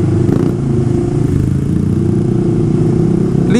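A motorcycle exhaust roars loud and close, holding a steady, heavy rumble throughout with no talk.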